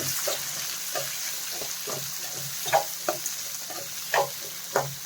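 Bitter gourd and onion frying in a pan, a steady soft sizzle broken by a run of sharp scraping stirs that grow louder toward the end, with no voices.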